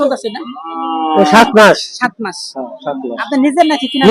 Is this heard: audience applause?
no